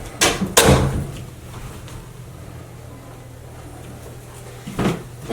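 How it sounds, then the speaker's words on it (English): In a quiet auriculotherapy treatment room, a door shuts with a couple of close wooden knocks, then after a hushed pause a softer bump follows near the end. "Close this door."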